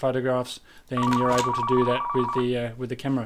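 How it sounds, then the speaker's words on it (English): A telephone rings in the Car Mechanic Simulator 2015 video game, a sustained electronic tone heard under someone talking. "That's the phone going off again there."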